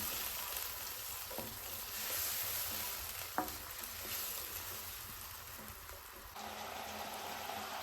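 Mustard paste fries in a pan with water added, cooking for a mustard hilsa dish with eggplant. A steady bubbling sizzle fills the whole stretch, with a few soft clicks and no talking.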